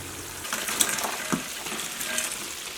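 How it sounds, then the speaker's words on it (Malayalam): Fried chicken pieces go into a pan of sizzling oily sauce for a restaurant-style dish, giving a steady close hiss with brief clinks and scrapes as they are stirred in, no voices. "ഇതിലേക്ക് നമ്മൾ വറുത്ത് വെച്ചേക്കണം ചിക്കൻ ചേർക്കാം"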